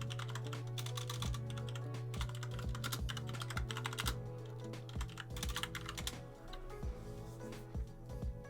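Rapid typing on an old, broken computer keyboard, with quick irregular bursts of clicky keystrokes close up over a low steady hum, and no one speaking.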